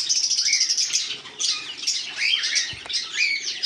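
Dense, continuous chirping and squawking from several small caged pet birds, conures, cockatiels, Java sparrows and lovebirds, close by, bright and busy with overlapping calls and no pauses.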